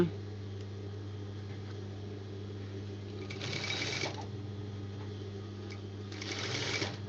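A sewing machine stitches a child's body pavadai in two short whirring bursts, quiet and close, over a low steady hum with pauses between them.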